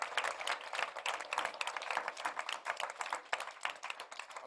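Audience applause after the team of the French Chamber of Commerce is thanked at a HeForShe dialogue event, a dense sustained wash of many hands clapping throughout, fairly close and steady with no talking over it.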